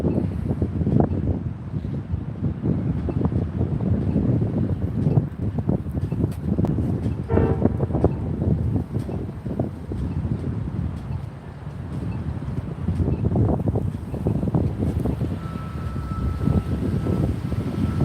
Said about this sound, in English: Hopefully the wind will die down by the time they start crossing the street.